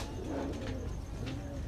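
A pigeon cooing on a rooftop, a few soft, low, rolling coos in quick succession, faint and near, over quiet background hiss.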